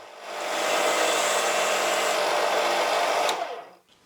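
A power drill with a bit boring into a wooden bead held on a wooden slat, one continuous close whirring run of about three seconds that winds up, holds steady, then cuts off.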